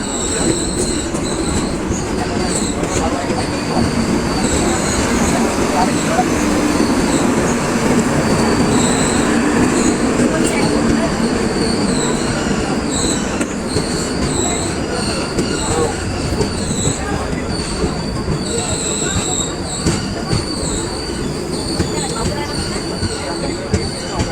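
Teesta Torsha Express sleeper-class train running, steady loud rumble of wheels on rails with high squealing wheel tones throughout, clattering rhythm beneath, faint voices in the background.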